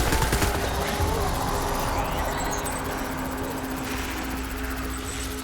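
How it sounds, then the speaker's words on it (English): Sustained, loud gunfire in Death Stranding as a MULE is shot repeatedly, dense bursts layered with game ambience and a low droning engine-like hum throughout. "Gotta shoot him a lot."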